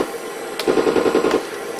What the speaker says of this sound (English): This button here is a machine gun